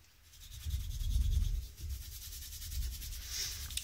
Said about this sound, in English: Just takes a bit of scrubbing to get it off.